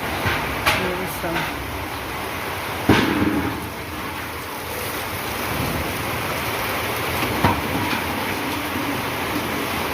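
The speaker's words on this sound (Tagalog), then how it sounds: "Naligo ko ulan mga kaibigan." Heavy rain falls in a steady, loud hiss with a few sharp cracks and rumbles of thunder scattered through it. There may be faint voices in the background.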